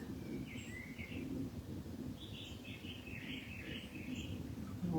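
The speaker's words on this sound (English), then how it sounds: "The birds singing their songs." Birds singing in early spring, several high chirps and short warbling phrases overlapping at a moderate distance over a soft, steady outdoor background.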